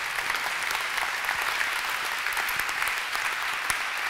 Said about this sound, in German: Auch ihm gebührt ein großer Applaus.